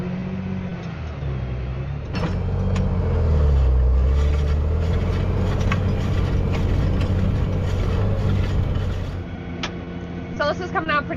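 A tractor pulls a disc harrow through a field for sweet corn ground, the engine droning loud and steady, swelling midway, with clanking and rattling metal over the low rumble.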